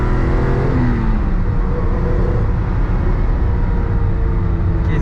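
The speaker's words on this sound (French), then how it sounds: "Ça, c'est les vieux moteurs flat 6 allemands." An old German flat-six engine in a BMW Le Mans race car revs loudly and close, a sustained rough growl with rising and falling pitch.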